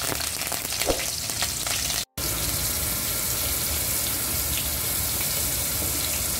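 Slit green chillies and curry leaves hit hot oil in a pan and sizzle loudly, a dense continuous crackling hiss that barely dips after a brief cut and holds steady with no talk.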